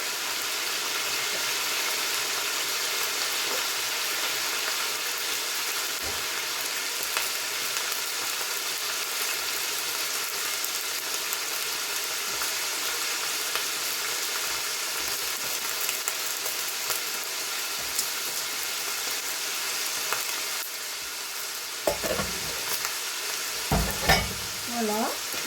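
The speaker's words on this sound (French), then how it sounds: "dans cette huile, je vais verser les choux-fleurs, les pommes de terre" Cauliflower florets and potato pieces hiss and crackle as they fry in hot oil, a steady close sizzle throughout with a few louder bursts of spattering and stirring near the end.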